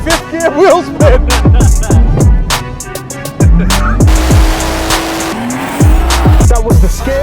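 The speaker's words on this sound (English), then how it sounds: "Fifth gear wheel spin!" A BMW M140i fitted with a hybrid turbo roars hard and breaks traction in fifth gear, its engine note surging and dropping through loud, close bursts with squealing tyres, while people shout excitedly over it.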